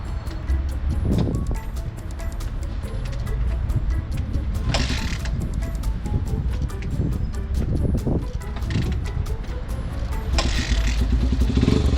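A motorcycle engine, a Honda Ape, runs steadily and fairly loud throughout, with a couple of brief surges in revs and some mechanical clatter from the bike.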